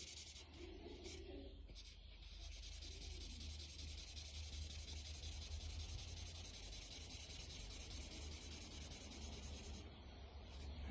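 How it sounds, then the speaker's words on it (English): Pencil colouring a sand area yellow on a paper map, a steady soft scratching and rubbing of neat strokes in one direction, continuous and close, with no talk. "To make it look as similar to sand as I can, I'm going to colour it in yellow. Trying to colour neatly, all in the same direction."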